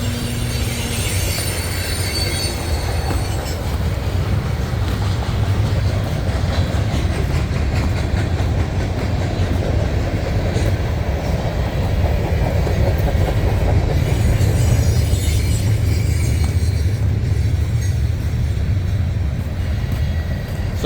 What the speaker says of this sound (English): Oh, maybe we'll get a bonus train. There it is.